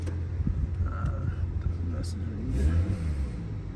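Cold BMW G30 540i engine idling and blipping after a spark plug replacement, a low, close rumble with short rises in revs and faint background sounds.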